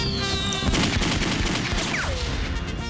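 Rapid volleys of firework rockets crackle and pop in a cartoon scene at a flea-market fireworks display, dense bursts filling the whole stretch with a whistling rocket trail rising near the end.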